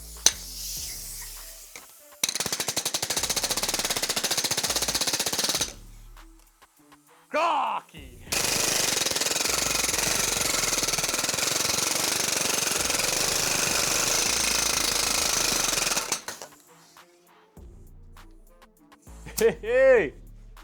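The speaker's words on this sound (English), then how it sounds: "here we have a flat piece of aluminium, slapper, steel dolly to try and stretch from the back" Pneumatic slapper rapidly hammering a flat aluminium sheet against a steel dolly, loud continuous bursts of several seconds separated by pauses, with brief talk between.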